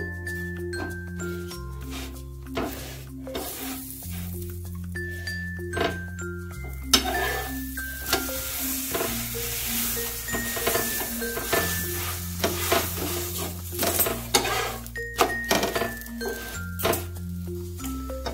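Steady sizzling of a spinach and potato paratha frying in butter on a hot pan, with occasional scraping and clinks, over background music.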